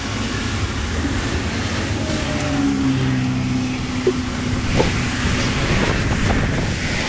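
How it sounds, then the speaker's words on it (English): Strong wind gusts outdoors beside a Toyota Sienna van during a detail job, a steady loud roaring rush buffeting the microphone, with a faint low hum and a few small clicks underneath. "Super windy out today."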